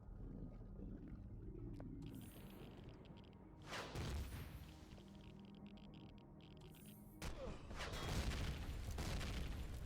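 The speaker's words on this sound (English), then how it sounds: "We'll have a straight on hit with the rocket" A rocket strikes and explodes in the sci-fi survival game Empyrion Galactic Survival, with sharp booming impacts rising out of a quiet mechanical hum, the loudest blasts arriving near the end.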